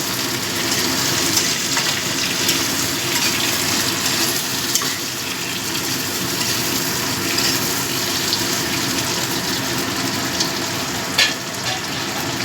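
Tomatoes tipped into a pan of frying potatoes and onions for a Bengali ghonto of bhetki fish head and bones with cabbage, sizzling in a steady, close, dense hiss with faint stirring and no voices.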